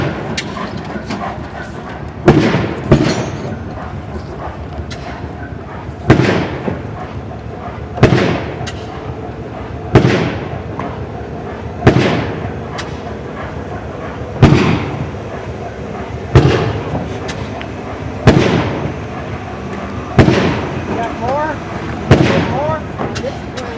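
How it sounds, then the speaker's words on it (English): Big engines run with their exhaust routed through the ground, sending out loud explosion-like booms at a steady interval of about two seconds over a continuous rumbling background. "they're running big engines and they're running the exhaust through the ground over here"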